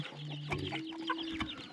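Chicken clucking faintly in a rural Lao village, a few short soft clucks over low background noise and a brief tone.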